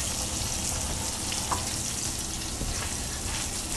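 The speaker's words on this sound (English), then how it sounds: "we're just going to toast our bread right in the pan with that" Bread toasting in a frying pan in hot fat gives a steady, moderate sizzle with continuous crackle throughout, with no voices over it.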